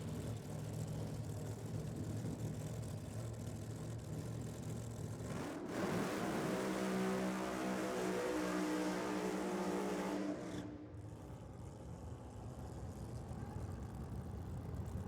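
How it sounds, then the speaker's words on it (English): Ford Mustang doing a big burnout at a Friday night drag racing event, a loud sustained engine roar and tyre screech that swells abruptly midway for about five seconds before cutting off, with a fainter engine rumble before and after. "Big burnout from Brody Davies there in the Mustang."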